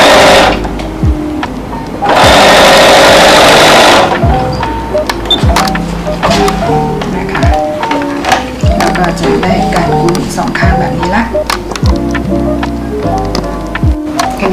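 A sewing machine stitches fabric binding along the edge of a slipper piece for homemade house shoes, its needle running in repeated bursts with short pauses between runs, close and fairly loud.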